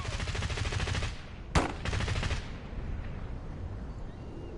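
Dense, rapid gunfire from a shooter video game, bursts of automatic fire with one sharp, loud shot standing out midway, the volley fading toward a softer rumble of continued shooting.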